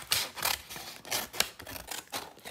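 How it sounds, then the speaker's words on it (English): Scissors snip a circle out of heavy cardstock or thin cardboard, a run of close, crisp cutting strokes in an uneven rhythm with no talking. "And then I'm just going to cut out the circle"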